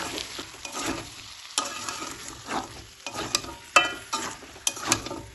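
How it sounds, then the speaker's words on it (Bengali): Spiced chicken with salt sautéed in a pan for malai chicken, giving a steady sizzle with repeated scraping stir strokes and light clinks, close and moderately loud with no talk. "আবারও দু থেকে তিন মিনিট সুন্দরভাবে কষিয়ে নেবো"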